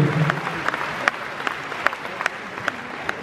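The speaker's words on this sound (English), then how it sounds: "Teresa, big applause for the ladies." Concert audience applause for a woman brought onstage at a show in Bournemouth, moderate clapping with a few sharp individual claps standing out, a low hum beneath, steady and even throughout.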